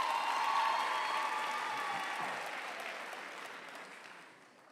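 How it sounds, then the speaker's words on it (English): An audience at a university graduation ceremony applauds the choir, a broad, even wash of clapping from a large hall that slowly thins and fades toward the end. "I think our choir is quite wonderful. Let's applaud them again."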